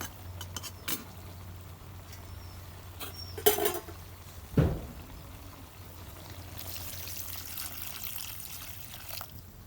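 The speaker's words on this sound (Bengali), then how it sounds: "এখন আমি ঝোলে পানি দেব।" Water poured into a pan of Malabar spinach and fish curry during cooking, a soft pouring and trickling sound at moderate distance, with a couple of brief clunks and a rising hiss of liquid later on.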